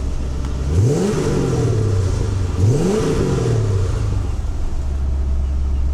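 A Mercedes-Benz W126 560 SEL engine, freshly overhauled, revs hard twice through its exhaust, each rise climbing then falling back to a steady, loud idle rumble.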